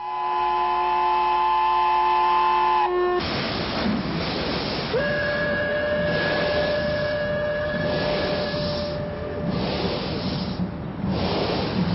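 An old train on the Hejaz Railway rumbles steadily throughout with rhythmic clatter, a high whistle-like tone cutting in partway, loud and close.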